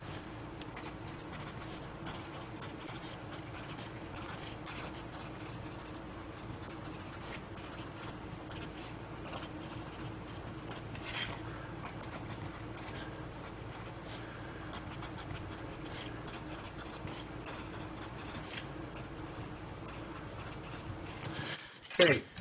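USA Gold pencil writing a paragraph on paper, a steady close scratching with a rougher, grittier edge, continuous strokes and brief gaps, ending with a sharp tap or clunk as the pencil is set down.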